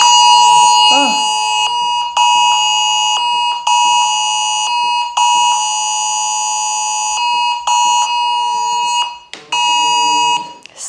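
A loud, steady electronic war-drill alarm wails continuously with a few brief breaks, a voice briefly heard near the start.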